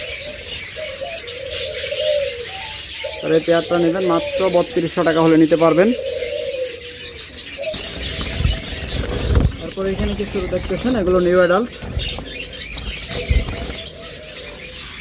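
Caged pet birds in a shop, among them lovebirds, forpus, budgerigars, cockatiels and finches, chatter with bursts of bright, warbling calls that rise and fall, while someone talks over them throughout.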